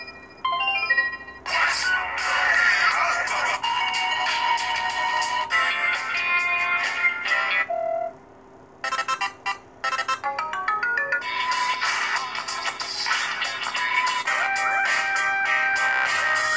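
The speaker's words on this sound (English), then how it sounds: "You can set your ringtone. So let's hear a few of these." Several electronic ringtone melodies from a LEMFO LES1 Android smartwatch play one after another, bright and loud, including a rooster-crow tone, separated by brief silences.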